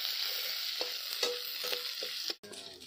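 Onions frying in hot oil for a Rith fish curry, a steady close sizzle broken by a series of spoon scrapes as the pan is stirred.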